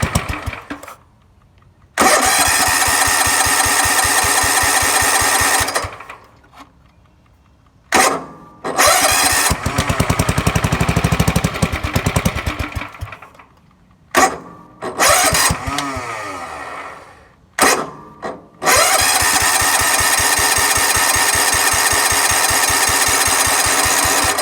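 A 1969 Chevrolet Suburban under restoration starts repeatedly, running loud in several bursts, stalling and silencing between tries, then settling into a sustained close rumble.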